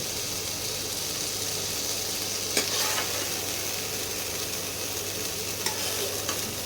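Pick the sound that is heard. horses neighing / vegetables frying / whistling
vegetables frying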